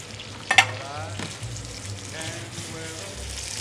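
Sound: salmon fillet frying in pan

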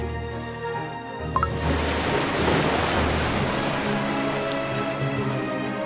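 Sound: waves of the sea rising, from the video game Cookie Run Kingdom

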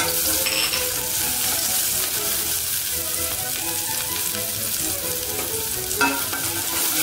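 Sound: frying minced shallots in a hot pot

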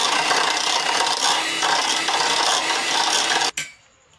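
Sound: beating cream with chocolate for cake

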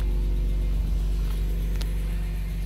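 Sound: BMW E46 M3 car reversing into garage

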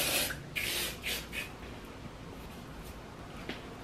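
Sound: texture spray being sprayed onto hair

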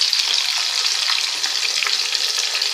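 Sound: ivy gourd pieces frying in oil

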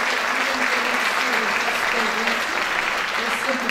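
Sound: applause for the Ariosa ethnographic group

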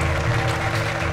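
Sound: clapping

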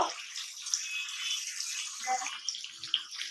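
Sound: cut bottle gourd pieces poured into cooking pan

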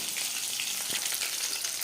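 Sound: tuna fish pakoras frying in oil

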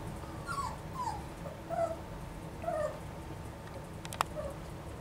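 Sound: Goldendoodle puppy whining for its mother

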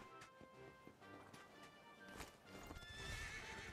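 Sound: horse hooves and whinny in video game

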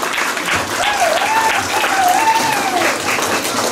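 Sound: applause

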